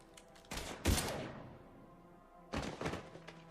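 Gunfire in the video game Mass Effect 3: a couple of sharp, heavy shots with decaying echo, a pause, then another burst of firing, fairly close and alone without talk.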